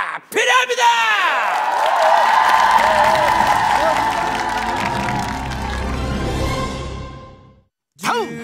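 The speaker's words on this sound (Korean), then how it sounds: "우리 멋진 제자분들에게 여러분들의 큰 박수가 필요합니다." Studio audience on a Korean TV variety show clapping and cheering with whoops and shouts, a loud sustained burst that swells and then fades out, with a voice briefly heard at the start and again at the end.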